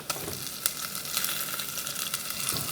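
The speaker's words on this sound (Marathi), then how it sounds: "तीन चार मिनिटं हे वाटण असंच परतून घेऊया" Masala paste with onion sizzles and fries in a pan, a steady crackling hiss broken by a few sharp stirring clicks, heard close up with no talking.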